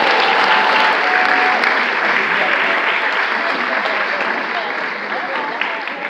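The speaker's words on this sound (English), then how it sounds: "Another round of applause for all of our small Heiser winners." A large crowd at a teachers' union awards event in a hotel ballroom claps for the award winners, a dense, loud wash of applause that gradually tapers over several seconds.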